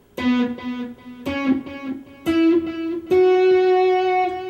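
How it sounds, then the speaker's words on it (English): Electric guitar playing a slow melody of four sustained, distorted notes from the hymn In Christ Alone, each attack echoing with a delay tail; loud and close with no voices. "I'm using some distortion. I've got some delay in there too."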